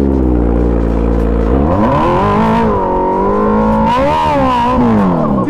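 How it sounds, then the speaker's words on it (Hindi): A superbike doing a burnout at a wedding, its engine held at a loud, steady high idle before revving up and wavering through rising and falling pitches, close and dominant throughout. "सुपर बाइक पे बर्नआउट मारोगे"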